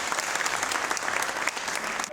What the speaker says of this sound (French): On les applaudit, public.